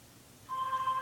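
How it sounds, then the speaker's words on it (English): A phone ringtone starts abruptly, a single steady electronic tone, fairly quiet and alone with no talking. "Ringtone, pick up your phone."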